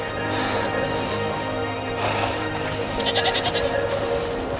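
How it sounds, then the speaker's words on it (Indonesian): A herd of goats bleats on a mountain hiking trail, several overlapping loud calls running continuously through the clip, close by and clear, with no talking over them. "Lihat kawanan kambing."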